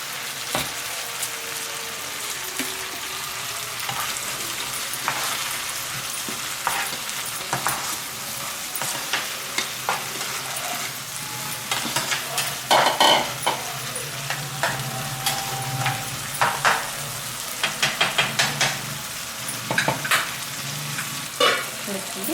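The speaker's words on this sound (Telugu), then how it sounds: "నీళ్ళు బాగా ఉడుకుతున్నాయి చూడండి." A pot of boiling water with soaked, washed rice added for Solala biryani, giving a steady low bubbling and sizzling hiss with scattered stirring clinks and splashes, fairly quiet and close, with no talk.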